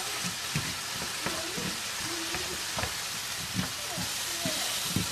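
Vegetables for a cheesesteak sizzling and frying in a pan, a steady broadband crackle with occasional sharper pops and a faint voice murmuring underneath.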